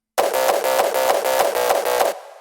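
Seven rapid kick drum hits pass through a resonant low-cut filter in Ableton, each giving a loud, bright, ringing pulse in an even driving rhythm before a short decaying tail.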